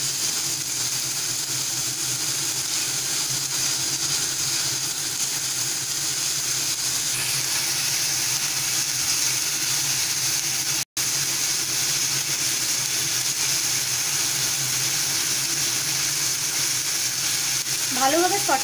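Ginger garlic paste frying in a pan over a full gas flame gives a steady, loud sizzle that holds evenly throughout, with one brief break and a faint stir near the end.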